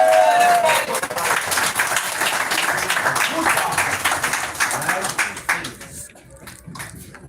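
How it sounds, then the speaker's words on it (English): An audience at a bookstore event claps and applauds in a dense, continuous burst that fades out toward the end, with some voices mixed in. "All right, clap it up, y'all."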